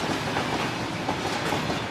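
A train rumbles past close and loud, with steady dense rolling noise and clattering wheels across the whole stretch, with no voices.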